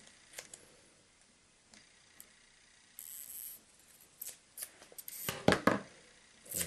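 Scissors snip excess material to length on a Skywalker model build, a few quiet isolated cuts followed by a denser cluster of crisp clicks and snips near the end.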